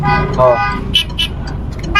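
Several short car horn toots from cars behind waiting at a red light sound over traffic noise, brief bursts spaced a moment apart, while a person talks in the foreground.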